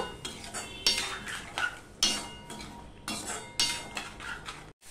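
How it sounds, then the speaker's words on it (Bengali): A metal spoon scrapes and clanks against a pan while a spice paste of chilli powder and a little water is stirred for rui fish curry, with loud irregular strokes over a faint sizzle and no talking. "এই মশলাটা আমি ভালো করে কষিয়ে নেব।"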